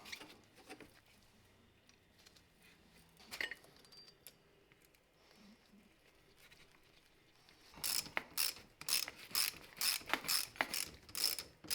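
Hedge trimmer blades, derusted, sharpened and greased, are tightened down with a series of close mechanical clicks and ratcheting taps, sparse at first and then a dense rapid run in the last few seconds.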